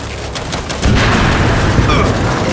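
A grenade blast booms in the Gears 5 video game, followed by a loud, sustained wash of gunfire and battle rumble that carries to the end.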